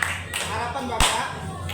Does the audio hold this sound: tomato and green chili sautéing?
no